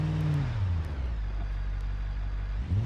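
Simulated car engine in BeamNG drives at a steady low rumble, loud and close, with a deeper swell at the start and end and no talk over it.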